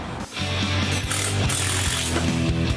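A hurricane storm shutter is cranked closed by hand, giving a continuous loud mechanical whirring and ratcheting with rhythmic clicks and a steady low hum throughout.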